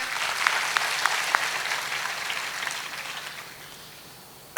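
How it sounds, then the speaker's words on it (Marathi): A crowd at a public speech applauding loudly: scattered sharp claps within a wash of applause that gradually thins and fades out, ending with a sudden loud bump. "एकदा जोरदार टाळ्या द्या"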